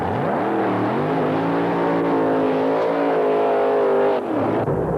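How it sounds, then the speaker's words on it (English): A 1986 Datsun 300ZX drag racing car roars at a drag strip, a loud, close engine note that climbs in pitch, holds a high steady whine, then cuts off sharply near the end, with no talking. "Tommy Howes, the pilot of the 86 300 ZX Datsun, the quickest car to date in the Wild Bunch"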